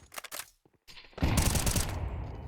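A grenade goes off in Counter-Strike 2 during a competitive match on Nuke. A few short clicks and shots come first, then the loud burst hits and leaves a sustained rumbling, crackling roar.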